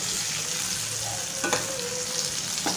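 Stuffed karela (bitter gourd) sizzles steadily in a pan as spices including red chili powder, coriander-cumin, asafoetida and turmeric are stirred in, with a couple of brief scraping strokes rising over the frying hiss.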